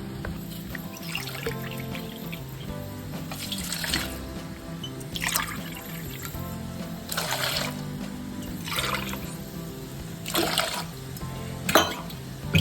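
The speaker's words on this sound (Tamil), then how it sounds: "தண்ணி ஊற்றி டீ போடணும்." Water splashes in several short bursts, like cupfuls being poured into a vessel for hibiscus tea, spaced a second or two apart against a low background hum.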